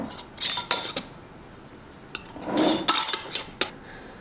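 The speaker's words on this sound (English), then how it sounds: "I'm just going to put lids on them and your bands." Metal canning lids and screw bands clink and scrape against glass jars in short bursts, close and fairly quiet, while pressure-canning chili beans.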